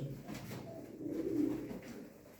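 A pigeon coos softly in low, throaty rolling notes, fairly close, with no talking over it.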